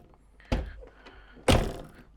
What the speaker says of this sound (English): there's the door, opens the door